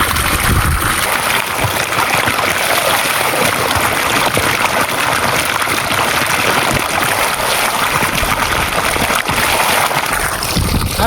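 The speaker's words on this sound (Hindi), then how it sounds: "इसमें चल रहा है पानी" Water pours from a roadside water source in a loud, unbroken rushing stream that holds steady throughout, with no voices.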